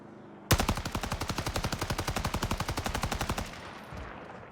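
An assault rifle test-fires in a first-person shooter on the Caldera map at a 40-meter target, a single long burst of rapid, evenly spaced loud shots that starts abruptly and stops after about three seconds, followed by a faint tail.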